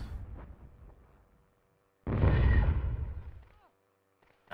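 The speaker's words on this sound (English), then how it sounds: "now we just keep bombing them" A single loud bombing explosion in the Hogs of War game, a heavy booming blast that swells and rumbles for over a second before fading, with quieter game sounds before it.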